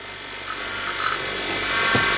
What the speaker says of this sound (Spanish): le damos un biselado como el que le estoy dando yo